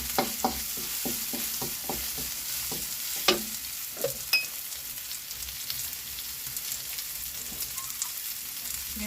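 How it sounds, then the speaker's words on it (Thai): Chili and baby corn stir-fry in a hot pan, with a steady sizzle broken by a run of quick, sharp scraping strokes of the spatula early on, then quieter frying alone, close up. "ผัดให้พริกหอมให้หอมเลย"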